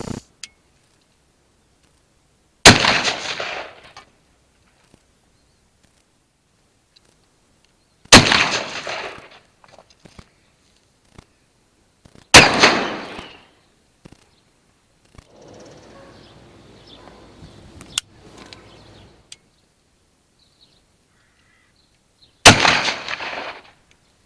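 Four sharp, loud shots ring out one at a time from a Nitro HV rifle while pest shooting at a milking parlour, each cracking and fading into quiet, with a faint stretch of rustling between the third and fourth.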